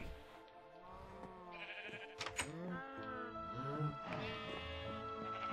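Several Minecraft sheep bleats overlap against a busy background of tonal sounds and game effects, moderately quiet with no clear talking.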